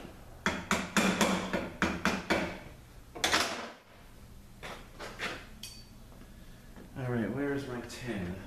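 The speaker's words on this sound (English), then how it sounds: "now we gotta peen this over" Hammer peening a pin over during a teardown of an Acura BDKA transmission: a run of sharp metallic strikes in the first few seconds, close and loud, followed by quieter handling noise and someone speaking.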